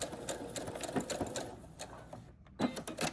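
A sewing machine back stitching a drawstring storage bag, running in short loud bursts with a brief pause near the end, close up.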